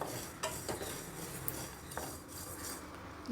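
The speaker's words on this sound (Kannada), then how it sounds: "ಧನಿಯಾ ಫ್ರೈ ಆಗ್ತಾಯಿದೆ" Coriander seeds frying in a pan for a horsegram rasam, a faint steady crackle and sizzle with light scraping of a spoon against the pan, quiet throughout with no voices.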